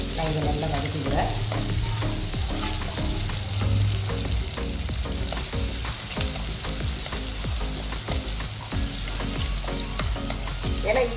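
Large onion sautéing in a pan for poondu kaara kuzhambu, a continuous close sizzle with frequent stirring clatters and scrapes of the spoon, with no talk.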